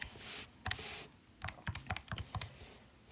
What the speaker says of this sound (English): so I can type that in to my calculator